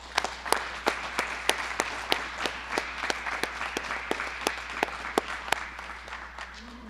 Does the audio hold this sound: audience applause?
yes